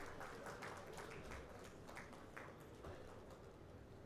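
A conference audience at a shipping and maritime logistics session gives a round of applause, a faint, even wash of many hands clapping with no voices over it.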